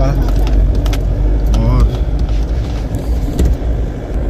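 A car drives along a rough dirt track through a farm field, its engine giving a steady, close rumble with small knocks and rattles. Conversation runs over it.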